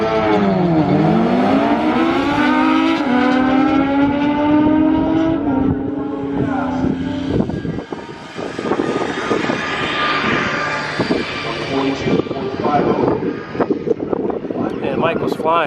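Suzuki Hayabusa motorcycles drag racing at Albuquerque Dragway, engines screaming and climbing through rapid gear changes in a loud, sustained roar, with an announcer talking over the racket throughout.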